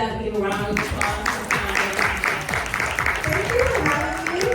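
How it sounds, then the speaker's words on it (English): Applause from an audience fills the clip, steady clapping with voices mixed in and talk running over it throughout. "Can we clap it up, give a round of applause?"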